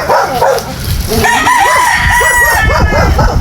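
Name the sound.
fighting rooster crowing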